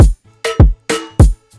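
Verse drum pattern from a dirty moombahton remix: loud, punchy kicks paired with sharp snare hits in a steady, syncopated groove, each hit decaying quickly with short silences between, no voice.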